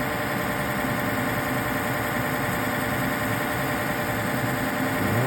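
Highland Park 8-inch cabbing machine running with water on a 400-grit wheel, a dense continuous motor hum and whirring wash, steady and close throughout with no speech.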